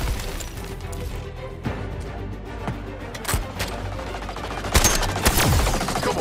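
Rapid automatic gunfire and sharp shot bursts in the Suicide Squad Kill the Justice League game, loud and close over a droning background, with scattered impacts and crashes.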